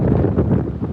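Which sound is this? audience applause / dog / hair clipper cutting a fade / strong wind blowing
strong wind blowing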